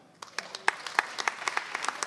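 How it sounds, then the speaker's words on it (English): Sparse, uneven clapping from a small comedy show audience, a scattering of individual claps building briefly and then thinning, fairly faint and with no talking over it. "By applause, how many sing in the shower?"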